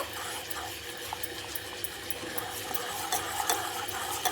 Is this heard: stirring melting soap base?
yes